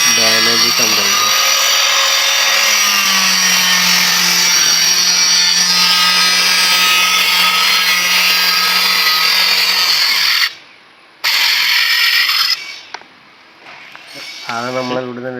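A power saw slowly cuts a full body tile slab with a loud, sustained high-pitched grinding whine over a low motor hum, stopping near the end, where a voice is briefly heard.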